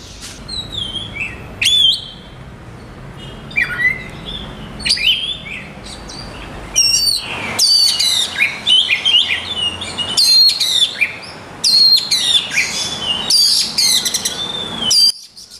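A large-bodied oriental magpie-robin (kacer) sings close and clear, a string of bright whistled phrases and chirps in repeated bursts separated by short pauses, with no talking.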